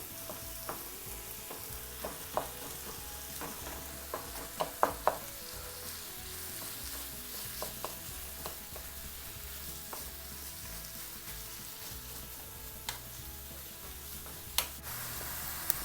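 Ground beef sizzles and fries in a pan with a steady hiss, broken by frequent clicks and scrapes of stirring.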